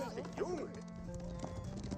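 Horse archer hooves clip-clop in a rapid, steady patter in the Age of Empires 4 real-time strategy game, mixed with a horse whinny and game sound effects under talk.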